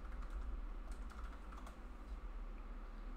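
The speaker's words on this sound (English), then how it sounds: "make sure to type in my password" A password being typed on a computer keyboard, with a short run of soft, quick key clicks over a low steady hum, close and faint.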